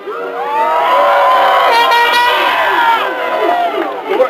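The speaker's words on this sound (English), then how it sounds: "this is your chance to applaud for yourselves" Office staff at a Microsoft Office 2000 sign-off event cheer and applaud loudly, a dense steady roar of voices and clapping that swells and then tapers toward the end.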